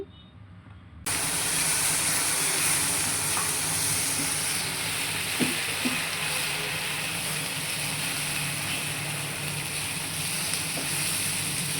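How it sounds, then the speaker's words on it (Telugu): Ground masala paste from the mixer cooks in oil in a pan for a mushroom curry. A steady hiss starts suddenly and holds as a continuous sizzle, with a few faint clinks. "మిక్సీ పట్టుకున్న పేస్ట్ని అందులో వేసుకొని ఆయిల్ పైకి తేలేంత వరకు కుక్ చేసుకోవాలండి"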